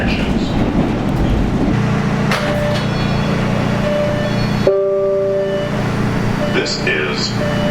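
MBTA Red Line subway train pulling into Andrew station, a loud steady rumble and whine of the cars with tonal motor and brake squeals as it slows, heard from inside the train.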